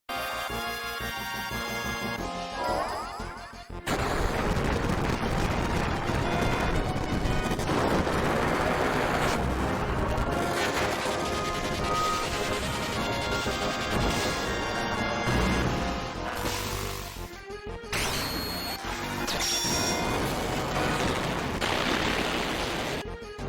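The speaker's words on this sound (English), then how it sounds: "it uses its eye beams to carve lines into the ground, which then explode in a burst of holy light" Alexander, a Holy-element summon in a video game, fires eye beams that carve lines into the ground before they burst in holy explosions. Dense, continuous blasts and crashes layered over loud music roar for about twenty seconds after a quieter opening.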